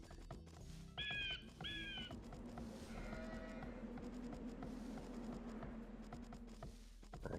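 Sheep in Age of Empires II give two short bleats early on, heard among game sounds of clunks, creaks and a steady ambient hum, with a further call in the middle.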